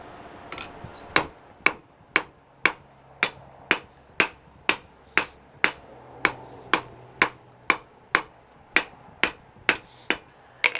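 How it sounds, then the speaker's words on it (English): A hammer strikes metal while a hook is forged, about twenty sharp ringing blows at an even, unhurried pace, loud and close with no talking. "A couple more hits on this metal."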